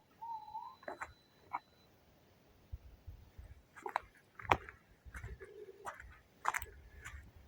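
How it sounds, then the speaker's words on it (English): Several short owl calls ring out at a distance in a quiet outdoor setting at 3:30 AM, with scattered bird chirps and brief rustles between them. "That's the owl you can hear now."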